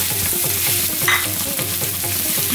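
Mashed jackfruit goes into onions frying on a low flame and is stirred through for chakka puzhukku, giving a steady close sizzle with rhythmic scraping strokes and no talk.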